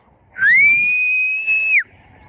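A person gives one long, steady, clear whistle to call up the wind on a still, overcast day; it rises briefly and then holds a loud, sustained pitch before stopping sharply.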